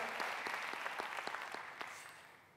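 A church congregation claps during a sermon, a short burst of brisk, fairly even applause heard from a distance and fading away over a couple of seconds.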